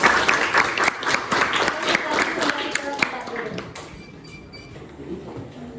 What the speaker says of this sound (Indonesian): Mari kita beri aplaus untuk mereka.